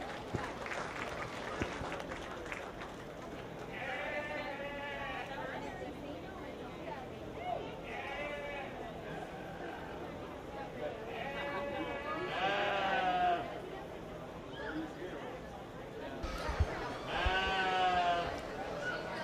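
Sheep bleat again and again at a 4-H/FFA sheep show, with a crowd murmuring and a public-address voice talking over the animals.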